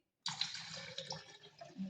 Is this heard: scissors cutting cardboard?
no